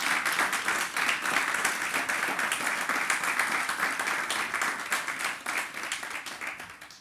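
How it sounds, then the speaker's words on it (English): Audience at a United Nations partnership forum in Jamaica clapping in sustained applause, a dense steady roar of many hands that tapers slightly toward the end. "Please give him another round of applause."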